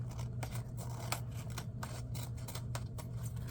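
Scissors snip repeatedly while trimming paper for a handmade no-sew journal, a close series of crisp cuts in an irregular rhythm over a steady low hum.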